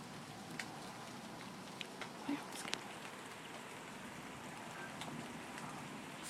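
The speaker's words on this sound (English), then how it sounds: "there's like a wall of rain coming." Rain from a big thunderstorm falling steadily as a dense, even hiss outdoors, with a few faint knocks and patters over it and no clear speech.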